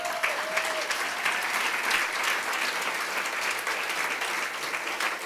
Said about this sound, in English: I would ask that you give Domi a round of applause as well